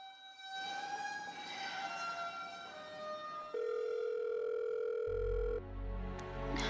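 A telephone call rings out unanswered in a tense domestic scene, heard as steady electronic ringback tones that shift in pitch partway through, with a low rumbling drone entering near the end; no one speaks.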